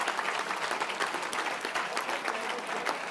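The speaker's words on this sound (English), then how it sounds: "can we have another round of applause?" Guests at the Make-A-Wish Hudson Valley Wish Ball gala give a singer another round of applause, a dense, steady patter of many hands filling the hall without pause.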